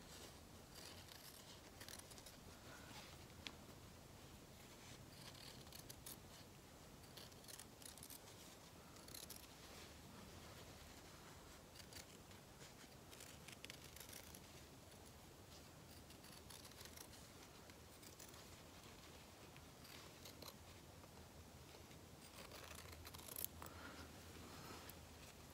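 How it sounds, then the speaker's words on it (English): Scissors snip around the outside of an embroidered fabric wreath, a quiet, steady run of small close-up cuts and rustles with no talking. "Now I'm going to cut around the outside."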